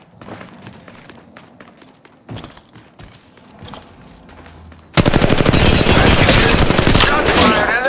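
Rapid automatic gunfire in the mobile shooter Apex Legends Mobile erupts loud and dense after a quieter stretch of scattered footsteps and small game sounds, sustaining a continuous volley of shots.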